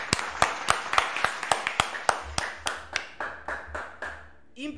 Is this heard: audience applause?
yes